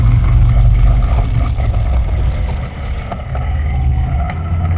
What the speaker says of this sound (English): Phantom really doesn't have enough horsepower. She's struggling, guys.